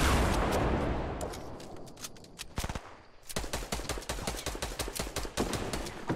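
Rapid bursts of automatic gunfire in a shooter video game aimed at the player, loud close volleys that fade briefly and then return as dense, repeated shots.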